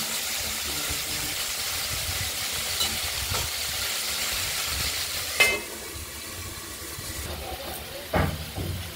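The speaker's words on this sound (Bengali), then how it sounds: "দুটো একসঙ্গে ভাজা ভেজে নেবো একসঙ্গে" Atta and potatoes fry together in a pan, a steady soft sizzle and hiss with a couple of sharper clinks of stirring, while faint talk sits in the background.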